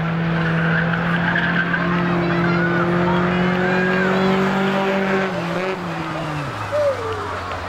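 Race cars at a Halloween Howler spectator one-on-one drag event roar loudly with sustained engine drone and tire squeal, pitch dropping near the end as the cars pass, while a commentator talks over them.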